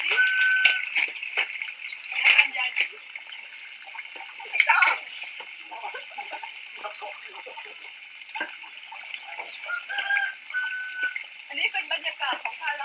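Dishes and bowls being washed with water at a hilltop home, with splashing, pouring and clattering rattles throughout and a few louder clanks, while people talk over the washing.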